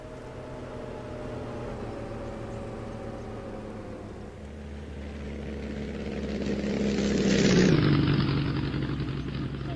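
An aircraft flies by in the military video game ARMA 3, with a droning engine tone that swells to a loud peak and sweeps downward as it passes, then trails off.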